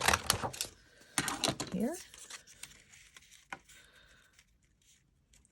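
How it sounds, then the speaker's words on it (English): Scissors snip a scalloped edge into paper in a string of short, close, crisp cuts, mostly in the first two seconds and then sparser, with a brief spoken word nearby. "So I'm going to cut a scalloped edge"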